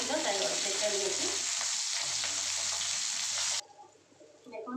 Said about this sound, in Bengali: দেখুন মাছের মাথাগুলো ভাজা হয়ে গেছে